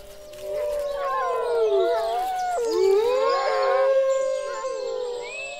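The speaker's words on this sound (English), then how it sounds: "Wolves still roam throughout the Dumitor Mountains, and their howl is a primal call of the wild." Wolves howling in the Durmitor Mountains, several overlapping long wavering howls rising and falling together, loud and sustained in an open wild setting.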